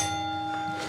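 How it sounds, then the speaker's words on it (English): A bell is struck once to open a segment on a wrestling talk podcast, leaving a sustained ringing tone that holds steady and fades slightly, heard alone at moderate level with no talk. "then I was going to ring the bell"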